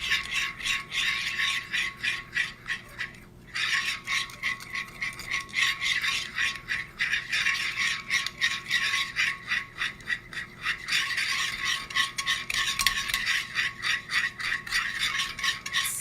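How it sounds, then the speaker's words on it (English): Edible glitter mixture being stirred in a bowl, a steady scraping, rasping rhythm of utensil strokes that runs continuously, close and fairly quiet, with only a brief pause early on. "I'm going to stir it up."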